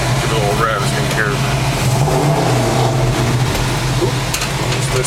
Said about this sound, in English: Give it a little rev as you can hear.